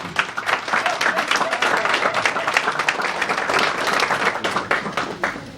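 Guests at a gala dinner applaud an honoured attendee, brisk clapping from a room of people, moderately loud and continuous across the whole stretch, with no speech over it.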